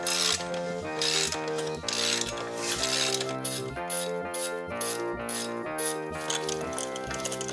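A ratchet on an extension works a bolt at the transmission case of a 2002 Cadillac Deville DTS engine, giving a fast, continuous metallic clicking and rattling close by.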